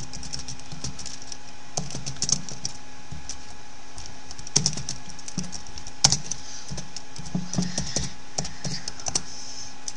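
Quick, irregular keystrokes on a computer keyboard while a web search is typed into a browser, close and moderately loud, arriving in short bursts with small gaps and a few sharper taps.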